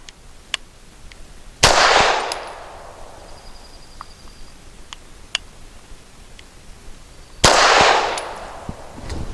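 Two loud, sharp pistol shots from a Grand Power K100D fired left-handed on a shooting range, spaced several seconds apart, each with a short echoing decay and faint clicks between.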